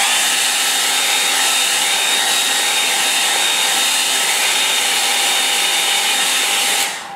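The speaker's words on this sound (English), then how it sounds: "I'll dry it a little bit." A hair dryer blows steadily and loudly over a wet watercolour painting, a constant close whirring roar that holds for several seconds before cutting off at the end.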